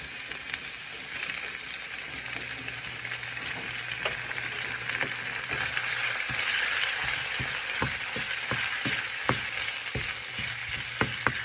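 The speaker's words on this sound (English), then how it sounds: "this is sauteing up nicely, so I'm going to add an egg now." Vegetables sauté in a hot oiled pan with an egg stirred in for a savory breakfast scramble, giving a steady, moderately quiet sizzle with scattered sharp crackles and utensil ticks.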